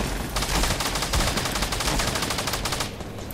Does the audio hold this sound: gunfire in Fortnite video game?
yes